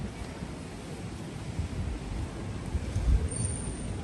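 Strong wind buffets the microphone outdoors in Barcelona, a steady broadband roar with low gusty rumbles that swell near the end, no voices heard.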